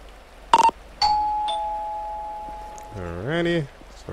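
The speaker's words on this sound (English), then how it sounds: "Alrighty, let's ring that doorbell." A two-tone doorbell chime rings at a house in the GTA 5 video game, with a sustained tone fading over a couple of seconds before a voice speaks over light rain-like background hiss.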